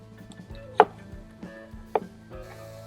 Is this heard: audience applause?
no